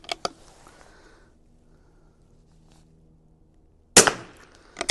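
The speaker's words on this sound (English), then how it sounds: "We'll shoot out a couple more here." A Vudoo V22S .22LR bolt-action rifle fires sharp, close single shots: two quick cracks at the start, then after a long quiet pause another loud crack with a brief echo, and one more at the very end.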